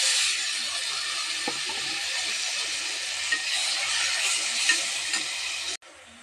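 Hot oil in a kadai sizzles steadily as tomatoes go in after mustard seeds and urad dal, a constant bright hiss with a few soft stirring clinks, then it cuts off abruptly near the end.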